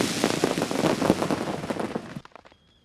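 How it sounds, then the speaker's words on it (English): Fireworks burst over a flat track race at the Circuit of the Americas, a dense stretch of loud crackling pops and bangs that thins out and stops abruptly, leaving near silence with a faint high tone. "the fireworks go off"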